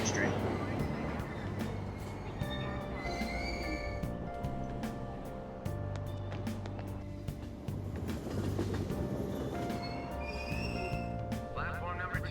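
Subway train sounds at a station in the Persona 5 video game: rumbling carriage noise with clicking rail sounds, steady and fairly loud, mixed with in-game chimes and tones.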